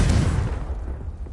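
A Confringo fire-blast spell exploding in the Hogwarts Legacy video game, a loud, deep, rumbling boom that starts at full force and slowly fades over about a second.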